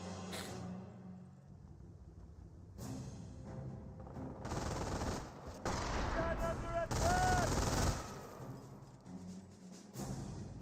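Rifle squad gunfire in the World War II strategy game Company of Heroes: bursts of rifle and machine-gun shots crackle at mid distance, swelling into heavier volleys midway, with faint battlefield rumble beneath.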